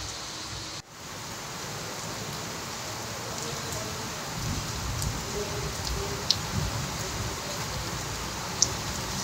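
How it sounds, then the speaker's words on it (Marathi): Heavy rain pours in a dense, continuous roar during a thunderstorm, loud and close, with a brief dip early on and a couple of faint sharp ticks later; no talk is heard. "विजांच्या कडकडाटासह पावसाने हजेरी लावली।"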